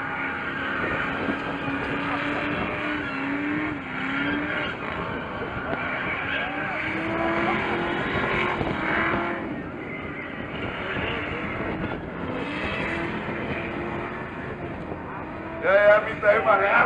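An American car's burnout at Denmark's largest American car meet in Roskilde, engine roaring steadily with tires squealing and wavering pitch, loud and continuous, under a crowd and an announcer talking.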